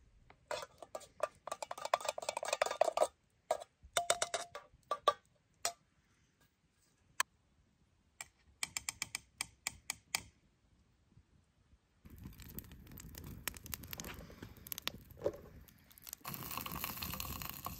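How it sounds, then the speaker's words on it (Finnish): Kebabs from a can sizzle over an outdoor campfire in a national park wilderness, heard as close, quiet irregular crackles and ticks in bursts with pauses, followed by a steadier soft hiss. "Kebabit siellä tirisee."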